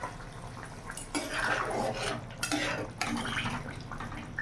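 A pot of Katla fish curry with potatoes and pointed gourd on medium heat, giving a close, quiet bubbling with a few wet clinks and stirs, and a brief swell of louder spluttering partway through.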